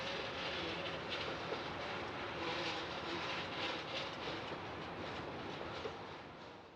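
A former Atlantic Coast Line GP7 diesel locomotive, built in 1950, rumbles past with a broad steady roar and faint rail clatter, loud and close before easing away at the end.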